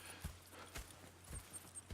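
Horse hooves clip-clop at an uneven walking pace in Red Dead Redemption 2. The footfalls are faint and fairly distant over low background ambience.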